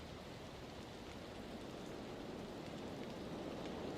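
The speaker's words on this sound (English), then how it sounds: "We just got a tiny bit of rain sounds." Steady, soft rain from the Valheim game ambience: an even, continuous hiss of falling rain, faint and unbroken throughout, with no talk or music.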